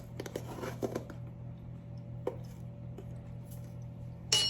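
A pestle works rosemary in a small stone bowl, producing quiet, irregular taps and crunching clicks at close range, with a steady low hum underneath and no talk.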